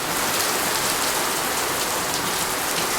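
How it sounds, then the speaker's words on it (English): Heavy rain pouring down in Florida, a dense, steady roar of drops drumming on surfaces, loud and constant throughout with no voices. "Take a break for a few minutes, and it just starts pouring."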